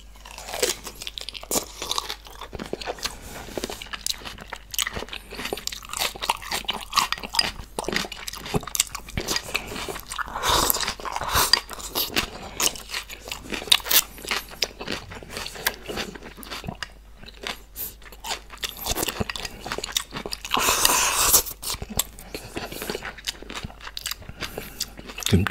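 Someone chews fresh Shanghai bok choy with kimchi and rice close to the mic. Bite after bite gives crisp, wet crunches in an uneven rhythm, with no talking.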